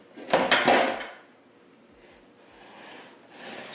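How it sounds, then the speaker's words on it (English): An air fryer basket holding a rotisserie chicken is pushed back into the fryer, making one close sliding scrape that ends in a clunk, followed by quiet room noise. "Now, we back in the air fryer."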